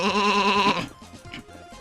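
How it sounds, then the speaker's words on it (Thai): A Minecraft sheep lets out a single clear bleat, wavering and close, before fading into a quiet game background with small sounds. "เราเจอ แกะอีกหนึ่งตัวบริเวณนี้"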